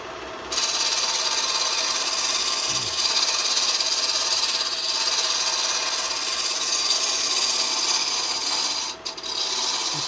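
A hand gouge carving into wood to shape a design, giving a steady, loud rasping scrape that runs almost unbroken and close up, with a brief dip near the end.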